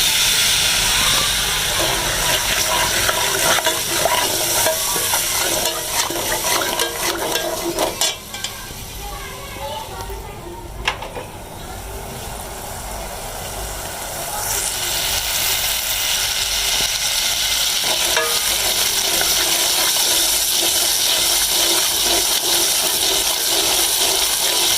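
Masala for an aloo anday curry frying in a pan, a steady loud sizzle and hiss with scraping stirring throughout, easing briefly midway before the sizzle surges back.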